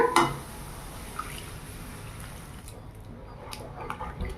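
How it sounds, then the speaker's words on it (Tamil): Leftover sugar syrup pours into a pan of halwa with a steady liquid splashing and trickling, moderately loud and close, with faint kitchen noise. "மறுபடியும் மீதி இருக்கிற சக்கரை தண்ணியும் ஆட் பண்ணிக்கலாங்க"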